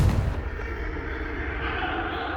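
A Confringo fire spell bursts in Hogwarts Legacy, opening with a sharp blast that settles into a dense, steady roar of rumbling fire and crackle, close and fairly loud.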